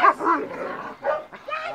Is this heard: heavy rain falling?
no